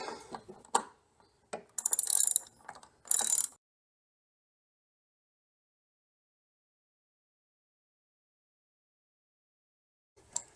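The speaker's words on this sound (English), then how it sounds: "So now both of these T50 bolts fully tighten." A ratchet tightens T50 Torx bolts on the rail of a Worksport AL4 flip-up hard tonneau cover, several quick clicking bursts up close, then a long silence and one final short click.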